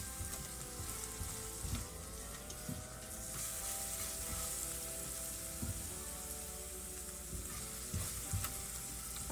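Red pepper flakes toasting in a pan for a home-cooked meal of garden produce: a steady, close sizzle and crackle with a few soft stirring scrapes, no talk.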